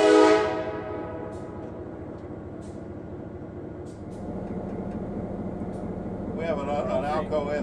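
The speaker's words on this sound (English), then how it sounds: "the train crosses the Paunch Creek Bridge that was bought from the New York Central in 1937" A Kentucky & Tennessee SW-9 diesel switcher locomotive rolls across the Paunch Creek Bridge near Stearns, Kentucky, a steady low rumble and rail clatter opening with a brief horn-like tone, while voices talk over it near the end.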